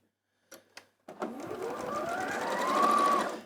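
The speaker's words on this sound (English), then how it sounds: "you just put them through the sewing machine and sew 1/4 inch" Sewing machine stitching a quarter-inch seam on fabric for a quilt-as-you-go tote bag, two brief starts followed by a continuous whirring run that rises in speed, close and clear.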